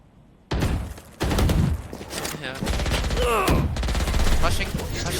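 Rapid bursts of gunfire in a tactical shooter video game, loud and close, broken by short pauses, with someone talking over the shots.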